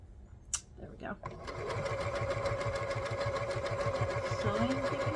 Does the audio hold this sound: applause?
no